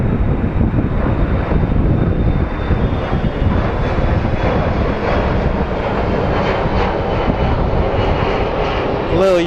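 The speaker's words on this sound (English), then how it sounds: "Little United Embraer with the Continental livery." A United Embraer regional jet in Continental livery passes at Phoenix Sky Harbor International Airport, its engines making a loud, steady roar with wind buffeting throughout.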